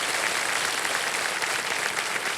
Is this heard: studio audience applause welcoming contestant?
yes